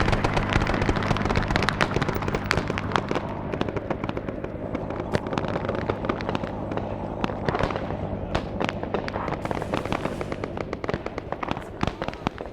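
Dense barrage of airstrike explosions from the Vietnam-era war game SOG, heavy rumbling booms and crackling bursts tumbling over one another, loud and continuous for the whole stretch with no one talking.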